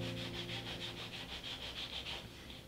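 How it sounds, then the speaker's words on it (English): Steady rhythmic rubbing and scraping, a dozen even back-and-forth strokes of a leather piece against sandpaper on a sanding block, close and fairly quiet. "Hold your sanding block down firm and rotate your piece along that sandpaper."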